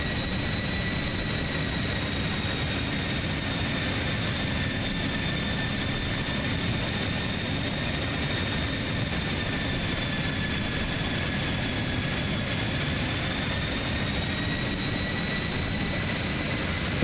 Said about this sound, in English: The only problem I have with it is just the wind noise during descent.